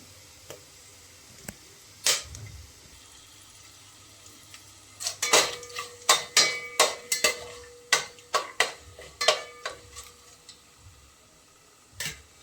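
A spoon stirs a spoonful of oil in a cooking pan, producing a close series of irregular metallic scrapes and clinks, sparse at first and then quicker, with no talking.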